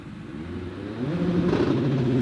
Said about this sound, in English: Revs rise and he's away.